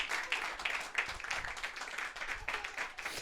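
A crowd claps and applauds steadily at a church service, a dense patter of many hands at moderate distance, fairly soft overall.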